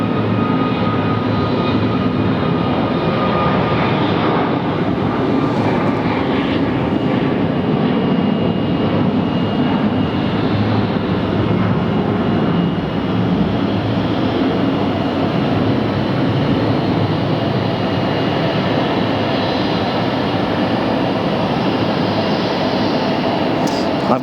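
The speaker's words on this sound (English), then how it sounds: "Back to our Southwest now, 8894 Quebec, using maximum takeoff thrust." A Southwest Airlines jet takes off at maximum thrust at Phoenix Sky Harbor, a loud, steady engine roar that fills the whole stretch without fading.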